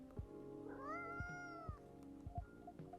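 A cat in the video game Coffee Talk 2 lets out one drawn-out, rising meow over a steady game soundtrack, with soft thuds and taps scattered around it.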